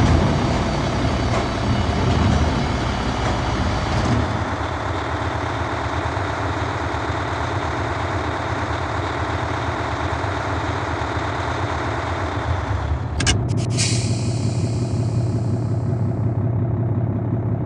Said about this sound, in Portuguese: esse barulho do caminhão na lenta é muito massa